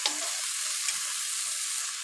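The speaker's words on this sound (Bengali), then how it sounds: "এই যে বেগুন ভাজা হচ্ছে, বেগুন ভাজাটার অবস্থা দেখি।" Eggplant slices frying in a pan give off a steady, close sizzle with a bright crackling hiss that holds level from start to finish, with no voices.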